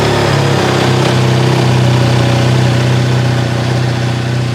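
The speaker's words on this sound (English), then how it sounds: "So I've brought the bike outside now so we can do the fire up. We haven't tried it yet, so let's see what it sounds like." BMW R1300GSA motorcycle fitted with a Jekill & Hyde exhaust, running at a steady, loud close-up idle with a deep, even hum and no one talking.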